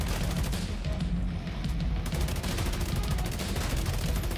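Rapid automatic gunfire from The Division 2 in a solo Dark Zone firefight, dense bursts of loud shots rattling continuously throughout, close and sustained with no pauses.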